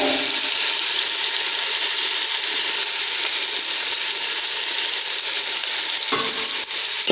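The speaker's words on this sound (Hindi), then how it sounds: "खड़े मसाले डाल के भून लेंगे थोड़ा सा" Whole spices frying in hot oil with garlic in a pot for Punjabi-style chana dal khichdi, a steady loud sizzle running throughout with faint stirring scrapes and no talking.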